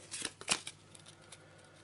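Arkham Horror location cards are shuffled in a few quick, soft riffling bursts close by, then fade to faint handling rustles.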